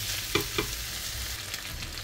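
Food frying in a pan is stirred, giving a continuous loud sizzle with a couple of sharp utensil clinks near the start, no talking.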